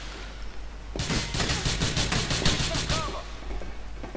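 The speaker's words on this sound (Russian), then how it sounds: "По-моему, кто-то оттуда стреляет" Gunfire in Grand Theft Auto: a rapid, loud burst of automatic shots lasting about two seconds, set against a steady background hum, with no talk over it.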